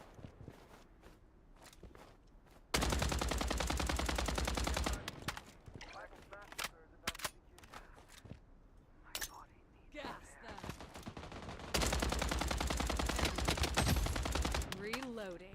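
Shooter video game gunfire comes in two long sustained bursts of rapid automatic fire, separated by scattered single shots, footsteps and movement, while a player talks in between.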